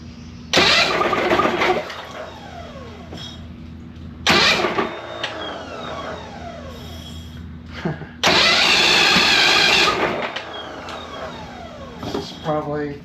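A Mercury outboard motor with an intermittent spark cranks in three separate loud bursts, each sputtering and failing to catch, with quieter pauses between attempts and a short rattling sound near the end.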